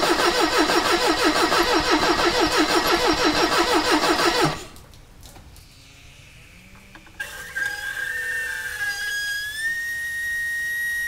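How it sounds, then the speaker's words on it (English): A car engine being started: a rapid rhythmic cranking grind for several seconds, then a brief hush, then the engine catching with a rising whine and a rough idle, close and loud. "we're just gonna give the car a start"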